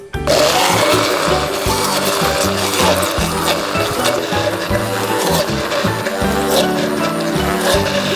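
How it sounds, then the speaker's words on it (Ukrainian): A loud blender whirs steadily throughout, its motor grinding and chopping onion with a rhythmic churning texture. "Всю цибульку подріблюємо блендером."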